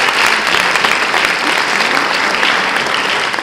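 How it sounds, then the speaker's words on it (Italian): Loud, dense applause at an award ceremony in Treviso as architect Pfeiffer is called to the stage, the crowd clapping in a sustained, even roar with no break. "Un applauso, grazie."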